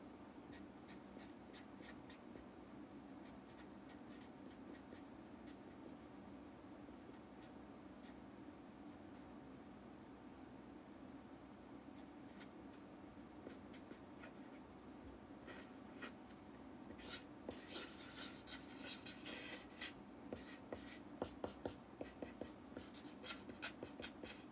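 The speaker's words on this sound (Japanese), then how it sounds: "赤シャチさんも書きます" Handwriting on paper during a live stream, soft scratching pen strokes over a low steady background hum, growing a little busier with some light clicks and rustles near the end.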